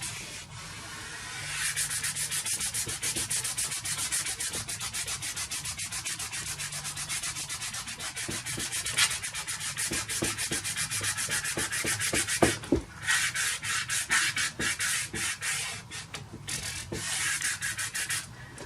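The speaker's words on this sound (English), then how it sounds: "I am going to give that a bit of the old finger smoothing out, because I want the sky to have that" Finger rubbing and smoothing soft pastel across a sky area of a painting, a steady dry scratchy friction that continues close and fairly loud, with brief pauses and strokes changing rhythm partway through.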